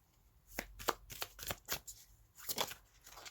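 Tarot cards shuffled close up before a reading: a run of quick papery riffles and flicks in uneven bursts, brisk and crisp, with no voices.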